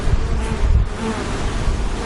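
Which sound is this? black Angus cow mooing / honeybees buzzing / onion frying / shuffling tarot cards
honeybees buzzing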